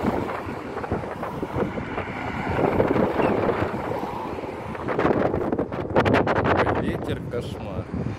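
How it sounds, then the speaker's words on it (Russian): Strong wind buffets an outdoor microphone in central Moscow near Chistye Prudy, a steady low rumbling roar with gusts that swell and fade throughout, while a voice speaks over it and a tram passes. "Ветер, кошмар."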